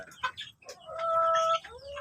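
Mahogany-colored Rhode Island Red chickens in a Philippine farm breeding area, giving a few close clucks followed by a drawn-out, tonal squawking call, with soft background farm noise.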